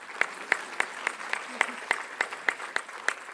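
Sparse, rhythmic clapping at an ESIC Dental College graduation ceremony in Rohini, a dozen or so distinct claps at a steady pace, fairly close and moderately loud, with no talk over them.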